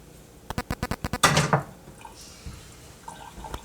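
Beef stock simmering in a pan, with a quick run of sharp drips or taps followed by a loud sizzling burst of liquid hitting the hot pan, then fading into quieter bubbling and faint clinks.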